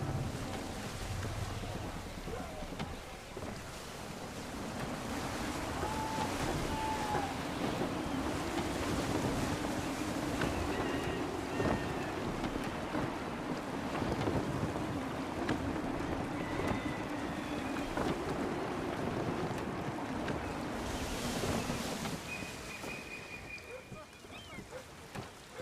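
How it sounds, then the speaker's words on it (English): Sailing ship at sea in Assassin's Creed 3, with steady gusting wind, rushing waves and creaking hull noise throughout, broad and continuous with a few faint tonal cues. "Gusty winds can be difficult to manage."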